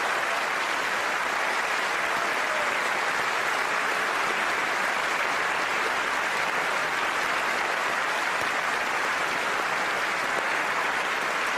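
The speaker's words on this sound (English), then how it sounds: "everybody is clapping for him, even the nuns" A large debate audience applauds Stephen Fry in a dense, continuous roar of clapping that stays loud and even for over ten seconds.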